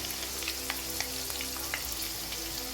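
Food frying in a pot gives off a steady, moderate sizzle while a spoon stirs it, with small scraping ticks scattered through.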